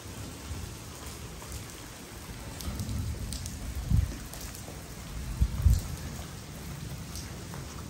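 Heavy night rain pours steadily in a continuous broadband hiss, with a couple of louder thumps and spatters standing out midway.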